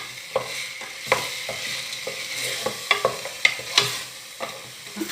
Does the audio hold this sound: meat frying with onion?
yes